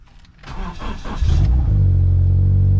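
A Scion FR-S car's swapped 1JZ-GTE VVTi engine cranks briefly, catches, and settles into a steady, loud idle close by.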